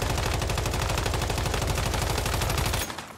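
A rifle in the video game Once Human fires fully automatic at a test dummy, a loud, rapid, evenly spaced stream of shots that stops abruptly near the end and leaves a short decaying tail.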